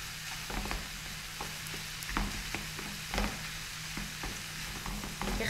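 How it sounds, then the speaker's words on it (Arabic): Crepe filling stirred as it cooks in a pan: a steady sizzle runs throughout, broken by repeated scraping spoon strokes against the pan at an uneven rhythm, with no one speaking. "خصنا نحركو مزيان باش يندمجو العناصر كاملين"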